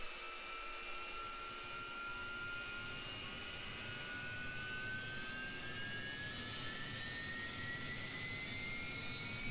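A jet engine spools up on an AV-8B Harrier in the DCS flight simulator, its whine rising steadily in pitch over a constant rushing roar, smooth and unbroken for the whole stretch, with no talking.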